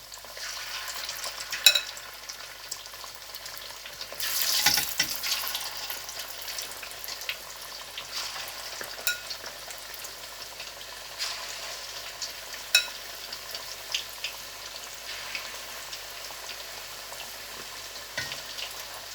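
Cornflour-coated chicken pieces fry and get stirred in a pan over high heat for chicken chilli: a steady sizzle with scraping stir strokes and a louder burst of hissing early on, no talk.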